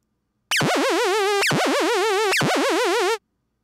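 Omnisphere synth tone modulated by a heartbeat-shaped LFO, pitch wobbling in three repeated swells that restart with a sharp dip each cycle, loud and close with no talk.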